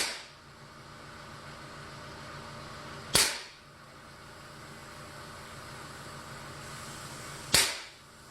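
Two sharp, loud air gun shots about four seconds apart, each a single crisp crack over a steady hiss of background noise.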